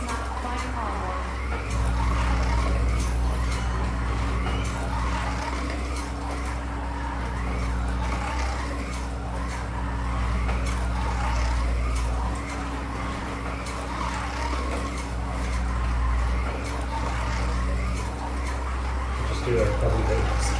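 Slot cars race around a track during a 2-litre time trial, giving a steady, continuous electric motor whine with slight surges as they lap.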